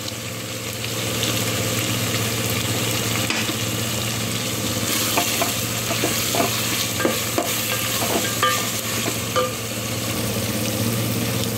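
Ginger garlic paste and spices fry in ghee in a pan, giving a constant close sizzle with scraping stirs that repeat through the middle stretch, and no one talks.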